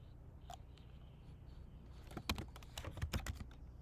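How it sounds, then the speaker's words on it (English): Keystrokes on a computer keyboard, a few scattered taps and then a quick burst of clicky typing, close but quiet in a hushed room. "So all my keystrokes will be there."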